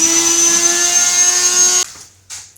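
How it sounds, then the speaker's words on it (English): A Dremel rotary tool cutting during a custom Suzuki Intruder bobber build gives a loud, steady high-pitched whine up close that stops abruptly, followed by one brief fainter burst. "So I guess I'll be switching over to my Dremel"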